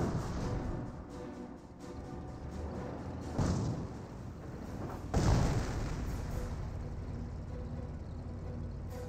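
Company of Heroes 1 battle sounds over a steady rumble of engines and ambience, with two heavy, booming shots a couple of seconds apart, moderately loud, and no talking.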